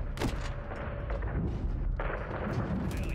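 AC-130 gunship cannon fire in a Call of Duty campaign, heavy distant booms and rumbling impacts with a few sharper shots over a continuous low battlefield drone.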